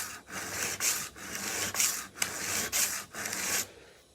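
A kitchen knife is stroked back and forth on a sharpening stone, four or five rhythmic gritty rasping passes close by with short gaps between strokes.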